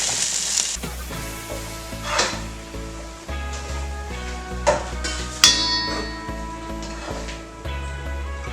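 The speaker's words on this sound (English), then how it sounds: "Let's mix it one last time" Kimchi fried rice with gochujang being stirred in a pan, with a soft sizzle under scattered scrapes and knocks of a utensil against the pan, close by.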